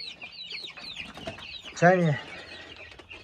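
Month-old Kuchinsky Jubilee chicks peeping in a quick series of high chirps, with a short spoken word in the middle.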